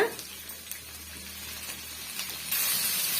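Tomatoes and other chutney ingredients sizzle and fry in a pan over high heat, a soft continuous hiss with faint stirring scrapes that grows louder and brighter toward the end.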